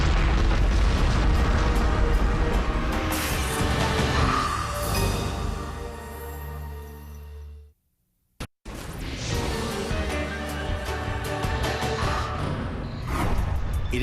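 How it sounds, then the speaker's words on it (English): Asteroid impacts bombarding the moon, heard as continuous heavy rumbling booms and blasts that cut to a sudden brief silence and then roar back just as loudly. "It faces a bombardment by thousands of asteroids"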